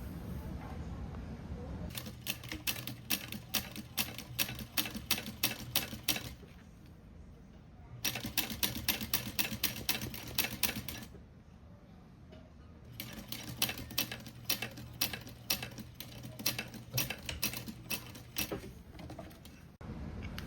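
A home sewing machine top stitches a duffle bag seam in three bursts of quick, even needle chatter, separated by short pauses, close and fairly quiet.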